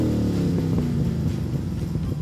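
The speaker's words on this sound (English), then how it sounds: "One of the best sounding exhausts you can buy." A car engine fitted with a Walkinshaw Performance exhaust idles and rumbles with a deep, burbling low note, moderately loud and steady, with no talking.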